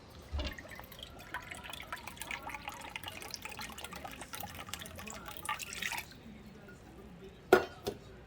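Rice vinegar poured into a measuring cup while cooking sweet and sour chicken, heard as faint, soft liquid trickles and drips close by, with a few sharper clinks near the end.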